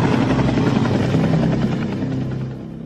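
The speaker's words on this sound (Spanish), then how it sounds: "El helicóptero da vueltas durante 20 minutos y luego desaparece tal y como apareció." A helicopter circles overhead, its steady rotor drone loud and continuous throughout and easing slightly near the end, with no voices.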